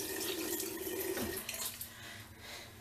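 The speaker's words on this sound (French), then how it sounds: "Donc je le passe sous l'eau chaude." Hot water runs steadily from a tap as a washable cotton pad is rinsed beneath it, a continuous close splashing stream that shifts slightly in tone partway through, with no speech.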